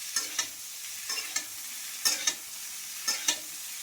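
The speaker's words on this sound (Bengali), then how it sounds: "পেঁয়াজটা একটু ভালো করে ভাজতে থাকি।" Onions sizzle steadily in a frying pan while a spatula stirs them, producing soft, regular scraping taps over the constant hiss; quiet and close, with no talking.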